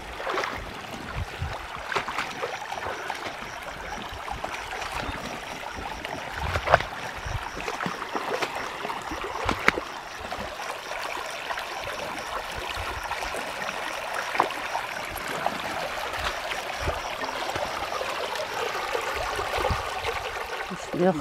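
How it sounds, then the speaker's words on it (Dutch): Water pours steadily over a small waterfall, making a continuous soft rushing and splashing that stays fairly faint, with occasional voices in the background. "En dat stroomt, dat water."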